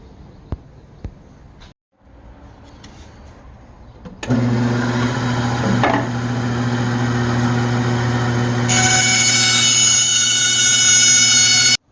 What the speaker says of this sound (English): I'm not the greatest at using a bandsaw